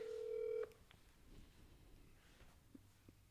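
A telephone sounds a steady dial tone for about half a second, then a quieter stretch of faint room noise and soft background sounds follows.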